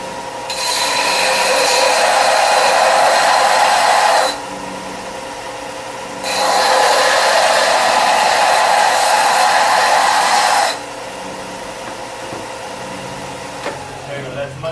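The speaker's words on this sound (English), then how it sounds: "I need to sand this a bit more." An electric sander grinds against metal in two long, loud, steady bursts of several seconds each, close by, separated by a short pause with quieter workshop background.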